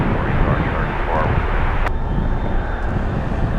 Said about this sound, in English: take a look at the Atlas flying to Guadalajara, making its way to runway 25 left